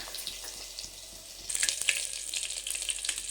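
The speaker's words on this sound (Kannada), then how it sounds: "ಸಾಸಿವೆ ಜೀರಿಗೆ ಎಲ್ಲ ಹಾಕೊಂಡ್ಮ್ಯಾಗ ಅವೆಲ್ಲ ಫುಲ್ ಚಟಪಟ ಅಂದು" Mustard seeds and cumin crackling and sizzling in hot oil in a pan, a steady hiss that grows louder and busier partway through, heard close with no speech.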